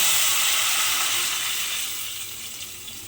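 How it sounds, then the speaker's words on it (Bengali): Cooked curry poured into a hot pan, setting off a loud sizzling hiss that is strongest at first and then slowly dies down, close up with no voices. "তরকারিটা আমি এর মধ্যে ঢেলে দিলাম"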